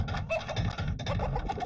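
Chickens clucking in the Beasts & Bumpkins video game, a busy, continuous cluster of game-audio fowl calls filling the short stretch without speech.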